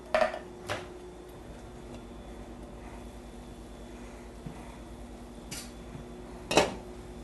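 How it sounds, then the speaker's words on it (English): A pan and a big spoon being picked up and handled in a kitchen make a few sharp metallic clanks, at the start and again near the end, with quiet room noise in between. "Let me grab my pan, and I think I'll grab a big spoon."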